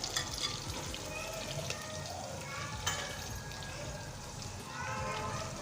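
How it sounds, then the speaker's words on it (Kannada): Steady, fairly quiet frying sizzle from a pan of chopped ingredients for tomato bath, a continuous hiss with occasional light stirring scrapes. "ಫ್ರೈ ಮಾಡೋಣ ಸ್ವಲ್ಪ ಚೆನ್ನಾಗಿ"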